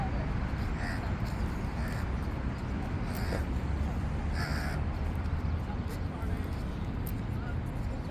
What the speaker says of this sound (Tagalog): Ay, uwak.